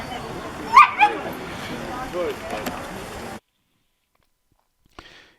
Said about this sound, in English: And these are two Malinois, they call them.